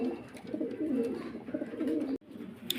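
Fancy pigeons at a Faridpur pigeon farm coo in low, rolling, throaty bursts, close and fairly loud and almost continuous, broken by one brief pause near the end.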